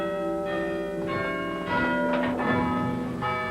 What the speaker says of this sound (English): visitors can ring the town hall bells